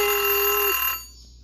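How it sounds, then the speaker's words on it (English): Built-in kitchen timer alarm in a Forest River Cardinal 3700 RV sounds a loud, steady electronic tone for about a second, then cuts off, leaving quiet room hum. "And then you do have a timer on here."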